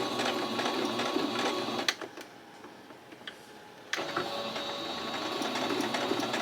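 A sewing machine stitches in a beginner's hands with a fast, close mechanical whir. It stops for about two seconds and then starts again at the same steady pace.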